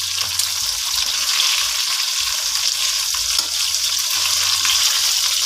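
Sliced eggplant fries in hot oil in a pan, a loud, steady crackling sizzle that continues without a break, with faint low clatter underneath.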